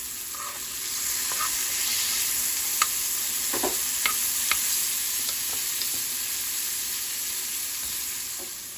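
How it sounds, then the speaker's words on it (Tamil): Shrimp fry in butter in a pan with a steady soft sizzle, punctuated by a few light clicks and stirs of a utensil, no one speaking. "இந்த ஷ்ரிம்ப் வந்து ஃப்ரை பண்ணி எடுத்துட்டேங்க."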